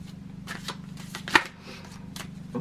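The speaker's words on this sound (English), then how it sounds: "there's two instances where I will shuffle the deck" Tarot cards being shuffled by hand, a soft rapid riffling that runs steadily through the clip, with one sharper snap of the deck partway in and no talking.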